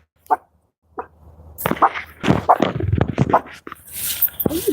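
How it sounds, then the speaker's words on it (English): A dog barks outdoors in short sharp bursts among homeless people talking, the barks loud and close with voices overlapping them. "What are you barking at?"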